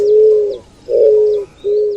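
Eared dove (avoante) from Brazil giving three steady, hollow coos in close succession, each about half a second long with short gaps, loud and clear against a quiet background.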